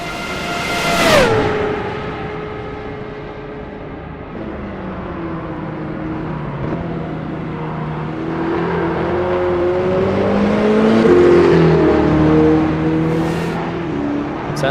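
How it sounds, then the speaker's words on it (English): Race car engines in a sportscar racing video game at Le Mans roar continuously, with rising and falling revs, gear changes and cars droning past, loud and sustained throughout. "We're going to listen to the engines for a second."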